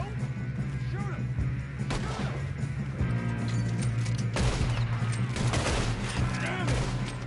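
A loud gunfight in Red Dead Redemption 2 with repeated shots and volleys cracking over continuous battle noise, with voices talking in the mix.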